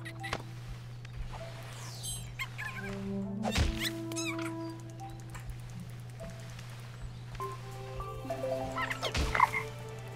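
Repeated frog croaks from Toki Tori 2 sound over a steady low game drone, with the calls bunched around the middle of the stretch and again near the end, set among chirpy in-game effects.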